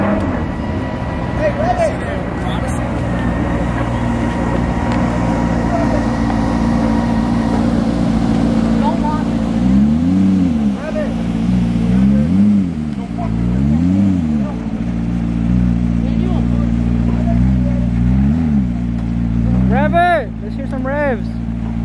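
Supercars leaving a car show in Columbus, Ohio rev their engines hard, loud rising and falling roars repeating in bursts close by, with a high-pitched rev near the end, over shouting from spectators.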